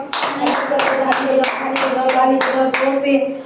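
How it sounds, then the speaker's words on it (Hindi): A group of people clap hands in steady unison, about eight sharp claps at a brisk even tempo, with singing voices running underneath. "हम ताली बजाओ"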